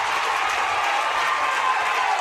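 A softball crowd at a state semifinal game, steady broad wash of cheering and applause held at an even level throughout, somewhat distant with no distinct voices standing out.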